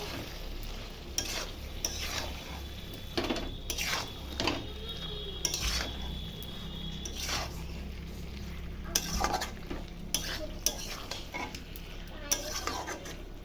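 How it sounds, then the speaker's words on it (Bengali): Meat being stir-fried with spices in a pan, a steady close sizzle broken by repeated scraping and clanking strokes of a spatula against the metal, with no voices. "আরও কিছুক্ষণ একটু কষিয়ে নেব।"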